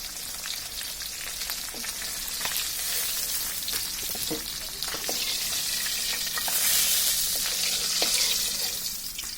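Koi fish frying in hot oil in a pan, a steady close sizzle with crackling spits and occasional scraping stirs, no talking.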